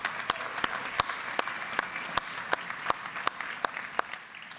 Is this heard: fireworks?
no